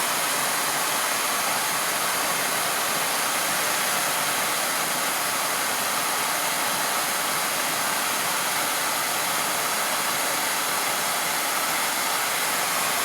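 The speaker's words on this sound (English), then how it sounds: "Need more horsepower on the blow lamp." A blow lamp flame roars steadily as it heats a piece of metal in a workshop, a loud continuous broadband hiss and rush with no break from start to finish.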